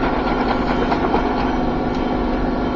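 Wood lathe turning a Christmas tree ornament at about 2600 RPM, a steady close motor whine and hum that holds an even pitch throughout, with no voices.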